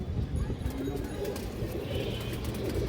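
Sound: pigeon cooing

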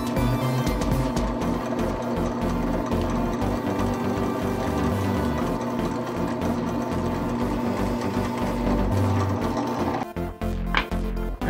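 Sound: drill bit drilling a divot into MDF wood gear

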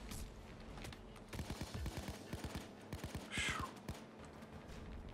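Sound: covering gunfire in the video game Payday

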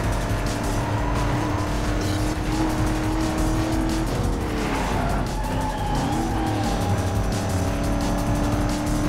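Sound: car skidding through corners in a racing video game

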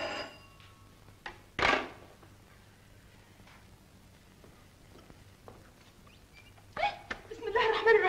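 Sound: telephone ringing

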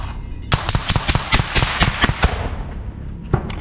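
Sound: gunfire

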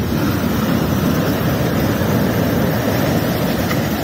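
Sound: ocean waves on a beach at sunset

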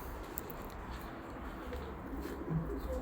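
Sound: pet pigeons cooing

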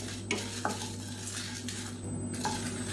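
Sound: spices, dried red chillies and curry leaves roasting in pan

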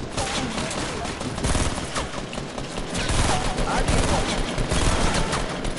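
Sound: sniper rifle shots in the video game Fortnite

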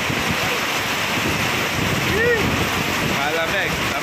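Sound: strong wind

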